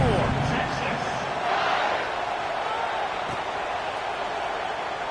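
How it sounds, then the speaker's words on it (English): A football stadium crowd buzzes with a broad, steady roar after a score, heard at a distance beneath a voice talking over it. "this crowd is buzzing after that last score"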